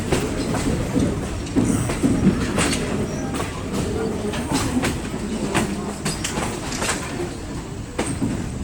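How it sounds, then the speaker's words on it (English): Passenger train hauled by two diesel locomotives rolls along steadily, a continuous rumble with clicking wheels over rail joints and occasional metallic squeaks, heard from on board. "the two diesel engines have to separate from the train"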